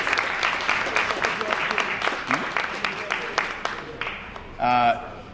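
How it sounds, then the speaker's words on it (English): Audience applauding children at a Black History Month celebration held by a community club, a steady wash of many hands clapping that fades toward the end, where a brief voice cuts in. "give that a round of applause for the kids"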